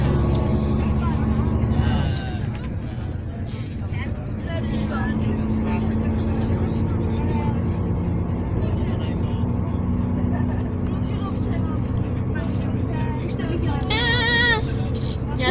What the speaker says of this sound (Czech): Radši si nasedneme na motor.